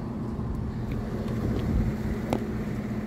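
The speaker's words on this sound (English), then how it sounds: "it's near the motorway. That's the noise you're hearing in the background." Steady roar of M40 motorway traffic near Warwick Parkway station, a continuous distant wash of passing vehicles with low rumble and wind buffeting the microphone, no talking.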